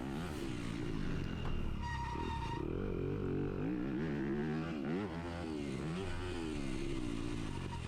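A 250cc dirt bike races across a grass field during a motocross race, its engine loud and close, revving and wavering as gears change and the throttle opens and closes, with another bike's engine droning nearby.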